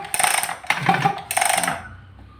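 A grass trimmer engine that won't start is pull-started: three quick rattling, ratcheting cord pulls, close and fairly loud, each a short mechanical burst with no voices.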